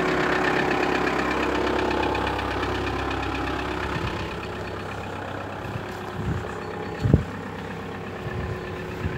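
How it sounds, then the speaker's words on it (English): Cold-started 1999 Audi A4 1.9 TDI diesel idling in a snowy, very cold winter, a close, even, clattering rumble that eases slightly midway, with a few knocks and thumps near the end and no voices. "the diesel engine starts for the first time."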